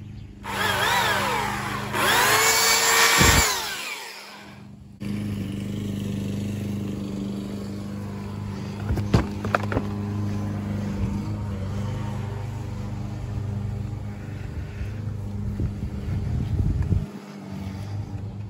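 A loud electric Earthwise chainsaw whines and buzzes in bursts, with tearing, crunching noises as it cuts a couch in half and a few sharp cracks.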